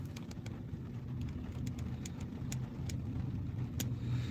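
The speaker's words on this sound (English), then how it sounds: "We are in a rainstorm." Steady rain drumming on a moving car, heard from inside during a rainstorm, with a constant low road and engine rumble and faint scattered drop ticks.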